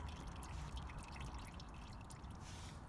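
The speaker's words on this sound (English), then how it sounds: "Get it right down to a steady drip." Engine oil from the sump of a BMW 118d runs out in a faint, steady trickle into a drain pan, soft and continuous with no voices.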